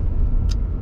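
Interior road rumble of a Honda Element on the move, a steady low drone with a brief hiss partway through.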